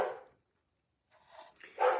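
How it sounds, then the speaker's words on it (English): A dog barks once, then after a pause more barks and yips follow, fairly close and loud. "See, now the dogs are barking."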